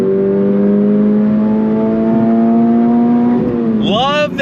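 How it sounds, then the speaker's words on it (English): A 2025 Toyota GR86 Hakone Edition engine revs loud and close, climbing steadily to 7,500 RPM, then drops and wavers as the throttle is released. "On throttle! Rev it all the way out to"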